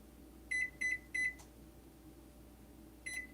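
A kitchen timer, set while baking quick-oat peanut butter cookies, gives three short bright beeps in quick succession, then a single fourth beep after a pause, faint over a low room hum.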